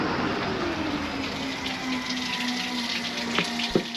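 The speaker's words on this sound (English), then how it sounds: "look at the amount of water flowing down this hillside here" Water from a major leak pours steadily down a hillside toward a storm drain outdoors, a continuous close rushing wash with no talk.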